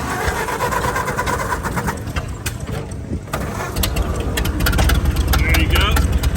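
A truck powered by a hit-and-miss engine cranks and catches, chugging and rattling loudly up close with irregular knocks as it runs, building in the final seconds while people talk around it.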